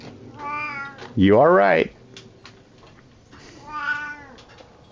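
A cat meows in a short, loud, wavering burst midway, with fainter voice-like harmonic calls before and after, while people talk over the scene.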